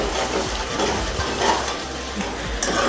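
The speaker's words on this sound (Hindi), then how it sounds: "अब मैं इसमें दही ऐड कर रही हूँ। इसे भी मैं अच्छे से मिक्स कर लूँगी।" Yogurt being stirred into masala frying in oil in a kadai for Karachi kadai chicken, giving a steady close sizzle with soft scraping stir sounds throughout and no talking.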